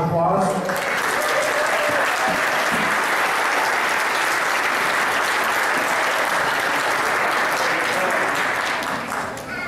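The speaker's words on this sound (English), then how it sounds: "give them a round of applause" Sustained applause from a large crowd, steady and loud throughout, with a few voices mixed in.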